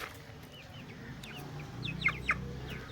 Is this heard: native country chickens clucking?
yes